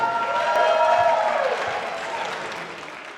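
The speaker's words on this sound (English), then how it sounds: "can we get a round of applause for this beautiful couple first?" Wedding guests applaud the couple, a steady wash of clapping with some cheering that fades over a few seconds, moderately quiet and with no talk.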